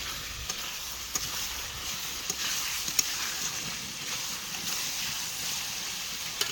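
Chicken frying steadily in oil over a clay stove, a continuous soft sizzle with faint scattered pops and no talk.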